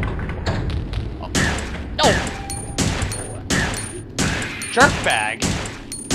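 Gunfire from a gun in the video game Resident Evil Survivor, loud repeated shots and thumping booms coming every half second or so, with a voice calling out between them.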